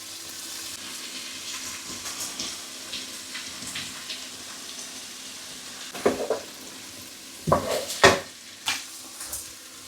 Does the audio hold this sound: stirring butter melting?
yes